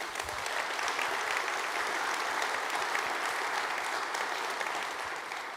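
Sustained applause from a large audience at the University of Texas State of the University address, a dense, even roar of many hands clapping that holds steady and fades a little toward the end.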